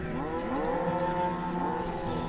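Cattle in the city-building game Banished moo in overlapping, drawn-out lowing calls, a steady chorus of several cows at moderate distance with no talk.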